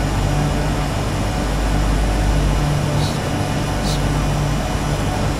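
Turbine Duke V2 aircraft engine in the Prepar3D flight simulator game drones loudly and steadily with a low, even turbine roar throughout, alone with no talking.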